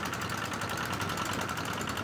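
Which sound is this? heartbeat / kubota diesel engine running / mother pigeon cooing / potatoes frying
kubota diesel engine running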